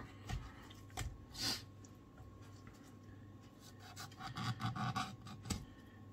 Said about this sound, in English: just make a little insertion through the skin